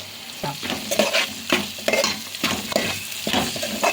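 Vegetables with coriander powder being stirred in a pan for veg biryani, a spoon scraping in repeated rhythmic strokes over a steady sizzle, close and clear with no voices.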